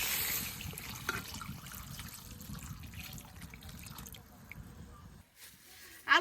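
Water pours steadily into a wok holding potatoes on a village stove: a continuous close trickle and splash for about five seconds, then a brief pause and a short knock at the end.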